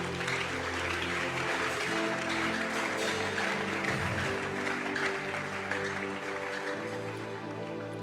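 A church congregation cheering and applauding during a prophet's sermon: dense, continuous clapping mixed with voices raised in acclaim, loud and sustained throughout.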